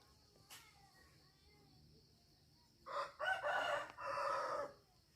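A rooster crows at a distance, one drawn-out call broken into rising and falling segments, over quiet background with a faint insect hum.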